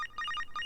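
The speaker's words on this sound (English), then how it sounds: "Getting a phone call." Phone ringing in the video game Psycho-Pass: Mandatory Happiness, a bright electronic ring with rapid repeating tonal pulses in two quick bursts, close and clear with no talking.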